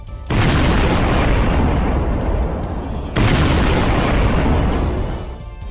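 Two loud explosive blasts, one after another, each a deep booming roar that lingers and slowly fades.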